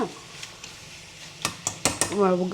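Gongura chicken fry is mixed in a pan, with sharp metal clinks and scrapes that build toward the end over a faint sizzle. Someone starts talking in the last moments.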